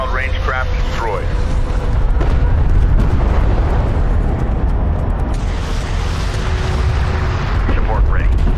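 A hostile craft blowing apart in Homeworld: Deserts of Kharak, a loud rumbling explosion that rolls on for several seconds under a constant low roar, with radio-style voices and chirping signals over it.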